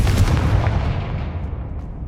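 Confringo fire spell blast in Hogwarts Legacy: a loud, booming explosion right up close, with a heavy low rumble that fades over about two seconds, no talk.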